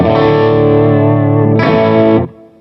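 Warm Fender-style electric guitar tone from a parallel effects blending setup, one loud sustained chord that swells brighter halfway through before cutting off abruptly.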